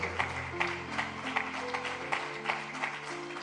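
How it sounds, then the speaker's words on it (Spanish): A church congregation claps rhythmically in praise over sustained background music, the steady beat of hand claps repeating evenly throughout. "Dele un aplauso al Señor si así lo desea"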